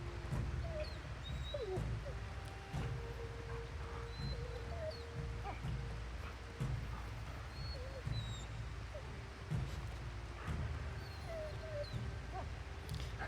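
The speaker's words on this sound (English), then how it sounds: "I hate the noise the dog makes." A dog in the video game Monster Hunter Rise Sunbreak whines repeatedly, with short high whimpers and squeaky yips recurring over a quiet, busy game backdrop of thumps and ambience.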